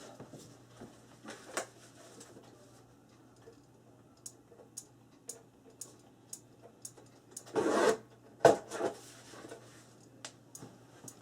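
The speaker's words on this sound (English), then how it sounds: "I'm going to take this one and I'm going to just trim a little bit off." Paper being trimmed for a Christmas album pocket sleeve, giving quiet scattered ticks and snips with a louder cutting or rubbing burst near the end, close by and alone over a low steady hum.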